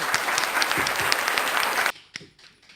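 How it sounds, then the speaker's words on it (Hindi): Lively applause from the audience at a kavi sammelan poetry gathering, close and continuous for about two seconds before cutting off abruptly into a near-silent room with a few faint knocks. "जोरदार तालियां बजाएं"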